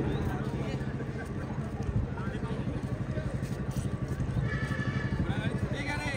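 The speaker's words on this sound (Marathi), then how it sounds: "आणि त्यातील घोडागाडीचा गट सुटलेला आहे आणि जवळजवळ तो परतीच्या मार्गावर आहे." Horse carts gallop in a horse-cart race at a bullock-cart racing event in Murud, a dense rumble of hooves and wheels with crowd noise and a commentator's voice over it.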